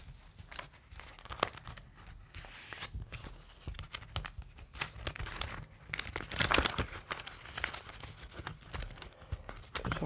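Crinkling and rustling paper as a paper envelope is filled with 100 euros in banknotes, close and fairly quiet, with handling sounds continuing throughout.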